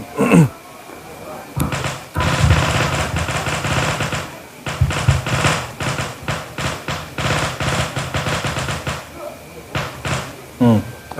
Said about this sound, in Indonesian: Ada petasan.